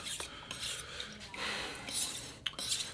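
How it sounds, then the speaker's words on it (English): A knife blade is sharpened with edge-trailing strokes on a King waterstone, making soft, close rasping scrapes that come in a few uneven strokes with brief pauses between them. "we'll just finish up here, a few edge trailing strokes"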